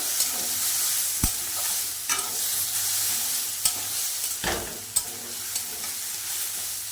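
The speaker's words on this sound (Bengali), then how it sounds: "জিরে বাটাটা দিয়ে আরেকটু আমি কষিয়ে নেবো" Small puti fish curry with cumin paste sautéing in a pan, a soft continuous sizzle broken by a few sharp scrapes and knocks of a spoon as it is stirred, close and fairly quiet with no talk.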